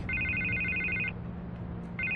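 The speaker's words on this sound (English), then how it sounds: "I can't get the phone to stop ringing." An electronic telephone in a Batman video game rings in two bursts, a bright repeating trill with a pause between, fairly quiet over a low background hum.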